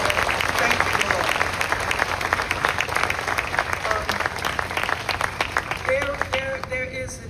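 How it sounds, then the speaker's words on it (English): Audience applause at the reopening ceremony of the First Bank of the United States in Philadelphia, a full crowd clapping steadily with some cheering, voices rising toward the end as it tapers. "Please give this team a round of applause"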